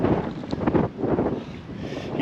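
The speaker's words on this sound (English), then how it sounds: "It's pretty windy out, actually." Blustery wind buffets the microphone in uneven gusts aboard an anchored Beneteau 47 sailboat, a steady low rumble with rising and falling surges and no voices.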